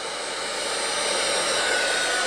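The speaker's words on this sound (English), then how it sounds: "Hot air gun." A steady, loud hot air gun blowing continuously on heat shrink tubing, a smooth rushing hiss like a hairdryer with no pauses.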